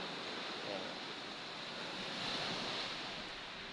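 Ocean surf washes steadily onto the shore at a quiet resort, a continuous, fairly loud roar of breaking waves that swells slightly midway, with no voices.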